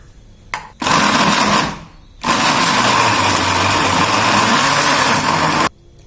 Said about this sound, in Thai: เดี๋ยวเราปั่นกับน้ำเกลือแป๊บนึงก่อนแล้วเดี๋ยวเราจะทยอยใส่เครื่องปรุงนะคะ